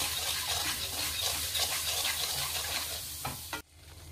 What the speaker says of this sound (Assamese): আপোনালোকে তেলত দি ভাজিব